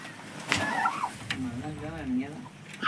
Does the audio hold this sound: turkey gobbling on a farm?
yes